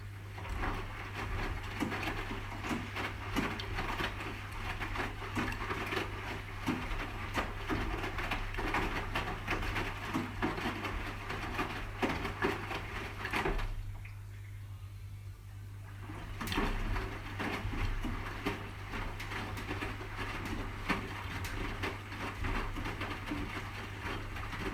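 A Hotpoint HE7L492 washing machine drum tumbles on a cotton standard wash, a steady low hum under repeated soft swishes and thuds of laundry, pausing briefly mid-way before the rhythmic turning resumes.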